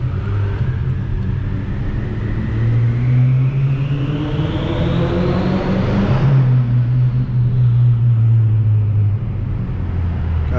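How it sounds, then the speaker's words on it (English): A BMW F10 M5 with a stage 3 DCT flash revs hard, its turbo spool rising as a climbing whistle over a deep, steady engine roar. The whistle then drops away as the engine note carries on loud and close. "listen to this turbo spool"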